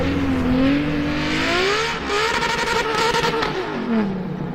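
A Ferrari F50 with its 4.7-litre 65-degree V12 revs up and down, its loud, steady engine note rising and falling with no voices over it.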